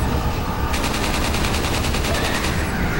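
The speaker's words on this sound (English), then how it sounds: "Now when I've got the infinite ammo Chicago typewriter" Rapid, continuous automatic fire from the Chicago typewriter in Resident Evil 4, a steady machine-gun rattle lasting about two seconds over loud game noise.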